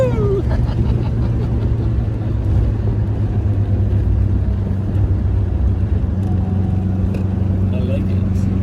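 A 1978 MGB Roadster drives through an S turn with a steady engine drone and road noise, heard from inside the open car while people talk over it.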